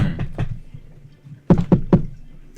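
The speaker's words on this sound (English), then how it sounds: "eventually you hear a knock on the door" Knocking on a door, two short sets of three sharp raps separated by a pause, close and distinct against a quiet background.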